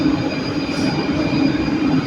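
A Skoda M1 metro train rolls past nearby, a steady rumbling rush of wheels on rails with a faint high squeal running throughout.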